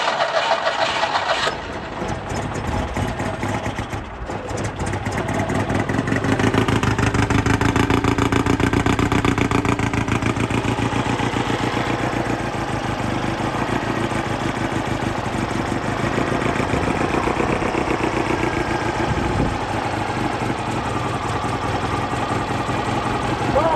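An old Citroën 2CV engine, just brought back to life after sitting abandoned, runs steadily and close by for a long stretch, with a rapid, buzzy beat that holds at a fairly even level.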